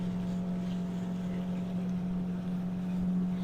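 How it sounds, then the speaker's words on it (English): Steady motorboat engine drone on Duluth harbor, a constant low hum with wind rushing across the microphone, holding even and close throughout without speech. "I'm going to hit the throttle a little more to get us moving"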